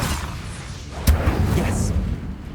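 An Incendio fire spell blast in Hogwarts Legacy: a sharp, loud burst followed by a rumbling fiery roar that fades over a couple of seconds.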